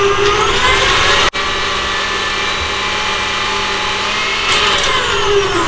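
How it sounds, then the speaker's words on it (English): Electric mixer whipping coconut cream at high speed: a steady, loud motorized whir that runs continuously, with a brief cut near the start and a faint scraping of the beaters against the bowl. "And just whisk it or mix it up, high speed."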